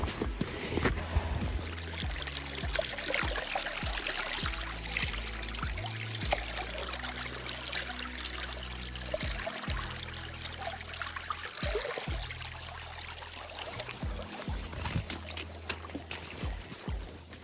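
Small trickling water source on the Pennine Way, a soft continuous dribble with scattered splashes and knocks from handling gear nearby over about seventeen seconds, faint and close, with no voices.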